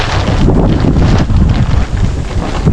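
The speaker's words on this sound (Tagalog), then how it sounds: "Sarap pag nakakalamap din ng hangin." Steady wind roaring and buffeting, loud and close, with rumbling low gusts and no voices.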